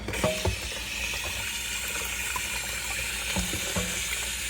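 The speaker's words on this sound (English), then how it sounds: "Run this under the water to clean it." Tap water streams over the removed brush roll of an UWANT wet-dry vacuum cleaner in a sink, a steady close splashing rush with a few brief knocks and clunks as the roll is handled.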